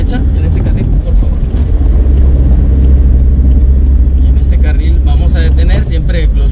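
A manual-transmission car accelerates up a slope during a hill-start driving lesson, its engine drone steady and loud with constant low rumble and wind noise, while an instructor talks throughout.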